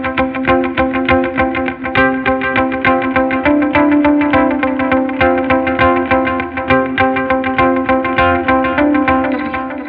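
An electric-toned riff on a Fender American Acoustasonic Telecaster using the Tele pickup setting with delay, loud and sustained, with repeating picked notes smeared by echoes into a continuous, slightly gritty wash.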